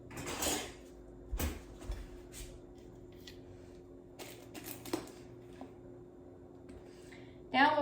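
Dishes set down into a home kitchen sink while making peanut butter and jelly parfaits: a handful of quiet, spaced clatters and clinks, with a louder knock near the end.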